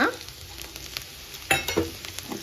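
Ginger garlic paste frying with golden-brown onions and green chillies in a pan, a soft steady sizzle with scraping stir strokes and a couple of louder clanks near the middle.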